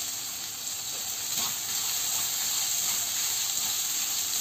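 Capsicum stir-fries in a pan over high heat, producing a continuous steady sizzle and hiss with a brief louder burst of crackle near the middle and no speech.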